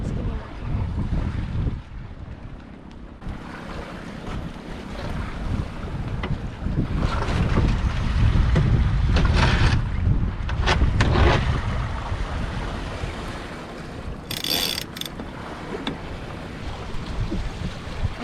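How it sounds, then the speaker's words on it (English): Gusty wind buffets a sailboat on Lake Ontario in rough weather, with loud rushing surges and microphone wind noise that rise and fall over splashing water and the creak of the boat. "the wind gusts change and the weather gets bad and the wind's crazy"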